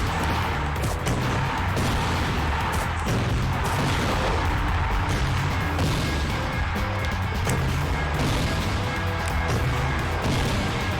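Dense, continuous crashing blasts from bombs exploding in Ratchet and Clank 2, loud and steady with no pause, layered over game effects and music.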